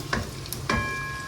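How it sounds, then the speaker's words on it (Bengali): Food frying in oil in a home kitchen pan, a soft steady sizzle broken by two brief stirring scrapes, close and fairly quiet with no talk. "ভাজা ভালোই হচ্ছে।"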